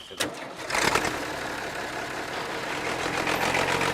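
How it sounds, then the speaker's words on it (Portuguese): A tractor engine cranks and catches, then settles into a steady, loud, knocking diesel idle outdoors in an Amazon forest clearing, running alone. "The plan is now that the Tembe are going to drive this tractor out of the forest"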